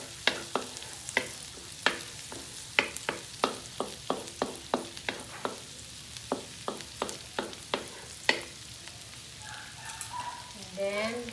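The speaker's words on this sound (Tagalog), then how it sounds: "Then, we can add the garlic. Dapat hindi masyadong mainit para hindi masunog agad ang butter." Garlic sizzling in butter in a pan while preparing baked macaroni, with a steady frying hiss punctuated by frequent sharp stirring clicks and scrapes of a utensil against the pan, fairly close and moderately loud.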